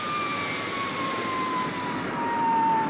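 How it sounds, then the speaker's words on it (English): Supercar's engines give a steady, loud jet-like roar with a thin whining tone that slowly drops in pitch, holding unbroken throughout with no voices. "I can hear Supercar's engines."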